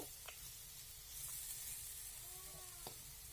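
Boiled potatoes fry in a pan with a faint, steady sizzle, broken by a few soft scrapes and clicks as they are stirred.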